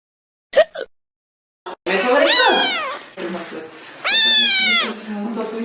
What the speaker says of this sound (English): This is what my cat does while I'm in the bathroom.